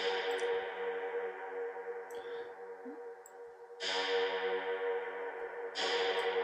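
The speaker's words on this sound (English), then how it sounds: "Maybe you can boost the reverb here." Percussive sample hits ring out with a long, washy reverb tail, two louder strikes cutting in over a sustained, echoing tonal bed.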